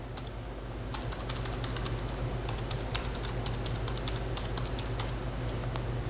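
A password is typed on a computer keyboard in quick, light, irregular clicks over a steady loud machine hum, with no talk.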